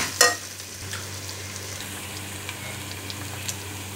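Sausage macaroni being stir-fried in a pan gives a soft, steady sizzle with a brief sharp clink at the start and occasional light scraping taps.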